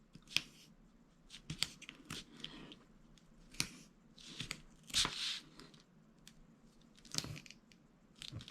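Strips of tape pressed onto the shiny side of a cheap plastic chopping mat, giving soft crinkles, scattered sharp ticks and light crackles, quiet and close, with no voices.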